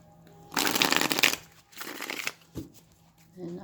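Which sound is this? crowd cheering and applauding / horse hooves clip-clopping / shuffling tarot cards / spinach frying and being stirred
shuffling tarot cards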